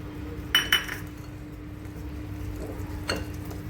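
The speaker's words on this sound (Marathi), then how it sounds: "आता मी तुम्हाला हे दही एकजीव करून दाखवते आहे दही आणि चण्याचं पीठ" A spoon clinks against a bowl while yogurt and gram flour are stirred together for Punjabi kadhi, giving two quick close taps and one softer clink later over a quiet kitchen background, with no talking.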